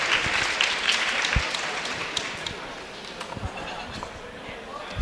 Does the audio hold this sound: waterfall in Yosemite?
no